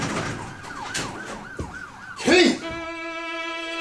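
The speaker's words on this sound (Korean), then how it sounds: "바로 그 순간 순찰차 소리가 집을 에워쌌다." Police patrol car sirens wail in repeated rising and falling sweeps around a house, followed by a loud burst and then a sustained, steady tone.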